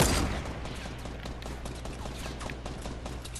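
Video game gunfire crackles in a steady, dense barrage throughout, loudest at the start and then holding at a sustained level.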